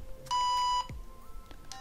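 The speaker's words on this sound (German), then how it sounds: "Da hört ihr auch so einen Piepton, damit man weiß, dass man es gerade anhat." A LEGO Mindstorms 51515 drone model gives a single steady electronic beep, about half a second long, when its light is switched on. A faint click follows, with quiet background noise around it.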